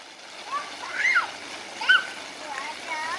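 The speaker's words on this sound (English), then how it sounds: "Are you splashing in the water?" A small child plays in water from a sprinkler on a homemade splash pad at a family farm, with soft splashing and watery hiss under the child's high, excited vocal sounds.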